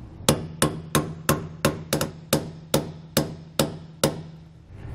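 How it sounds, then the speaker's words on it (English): A hammer taps serrated-edge bolts into leaf springs on a travel trailer suspension install, eleven sharp metallic strikes in a steady rhythm, close and clear with no talk. "so you want to tap them in with a hammer"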